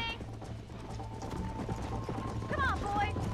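Horses gallop in Red Dead Redemption with a steady rhythmic clip-clop of hooves close by, and a short whinny rises near the end over game ambience while someone talks.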